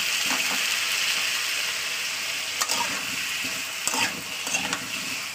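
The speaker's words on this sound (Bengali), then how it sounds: "তো আলুটাকে দেওয়ার পর না 2 থেকে 3 মিনিট একটু তেলে ভাজা করতে হবে।" Potato pieces fry in oil and are stirred, a continuous close sizzle with occasional scraping clicks from the spoon against the pan, with no talking.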